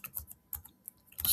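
Typing on a computer keyboard, close by, with a quick uneven run of light key clicks and short pauses between them, ending in a louder burst of clatter. No one talks.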